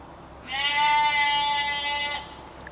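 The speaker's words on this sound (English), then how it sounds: "There's obviously some sheep in that field through there." A sheep in a field gives one long, clear, wavering bleat lasting well over a second, loud and close, with a quiet outdoor background before and after.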